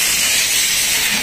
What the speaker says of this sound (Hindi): फॉर्म जनरेटर, क्या जबरदस्त फॉर्म आ रहा है